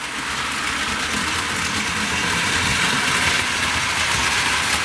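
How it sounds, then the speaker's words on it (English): Seventy-year-old Hornby Dublo Duchess of Atholl toy locomotive with heavy wheels rolling on tinplate track, a loud, steady metallic whirring rumble with a constant motor hum, unbroken and close throughout. "The noise of the heavy wheels rolling on the tinplate track."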